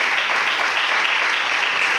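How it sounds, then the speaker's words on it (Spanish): A church congregation claps loudly and continuously, a thick, even wash of applause with no pauses. "¿Cuántos le pueden dar un fuerte aplauso al Señor?"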